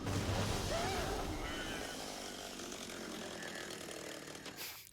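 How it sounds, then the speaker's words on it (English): A chainsaw runs in a scene from the TV show Buffy the Vampire Slayer, a loud continuous rasping drone that fades slightly over a few seconds, with faint voices underneath. "with a chainsaw."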